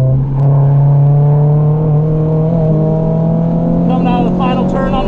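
Race car engine at the Gridlife Mid-Ohio track, heard from onboard as it pulls steadily through third gear around the carousel, a loud sustained drone rising slowly in pitch, with a brief shift-like change near the end.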